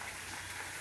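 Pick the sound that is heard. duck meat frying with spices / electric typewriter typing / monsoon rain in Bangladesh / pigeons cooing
monsoon rain in Bangladesh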